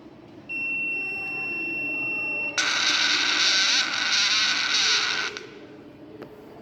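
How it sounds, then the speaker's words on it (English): A medicine box's steady electronic tone sounds, then switches abruptly to a louder, harsher buzzer alarm that holds for a few seconds before cutting off. "here's the buzzer which produces the alarm sound"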